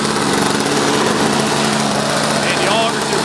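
A Toro snowblower engine runs steadily outdoors just after starting on one pull, a loud continuous buzzing drone with an even rhythm and a voice speaking over it.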